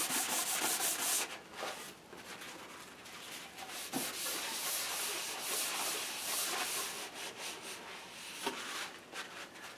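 Two wooden halves of a Native American flute rubbed against each other by hand, a steady close scraping, sanding-like friction with a few sharper strokes and brief pauses.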